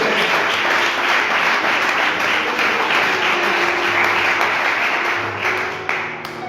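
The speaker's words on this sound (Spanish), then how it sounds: "¿Cuántos dan un fuerte aplauso a nuestro Dios?" A church congregation breaks into a strong, steady round of applause for God during a sermon, the dense clapping sustained and loud before thinning slightly at the end.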